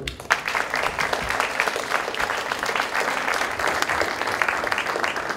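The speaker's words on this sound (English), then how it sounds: "Please, a round of applause for our panel tonight." An audience at a Hellenic shipping industry panel discussion applauds the panel, a steady wash of clapping from many hands that holds at an even, moderate level throughout.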